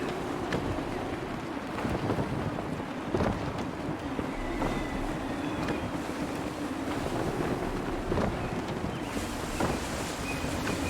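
Sailing ship at half sail in the Assassin's Creed 3 video game, with a steady roar of wind and rushing waves against the hull, constant and close throughout, occasional creaks and splashes rising above the wash.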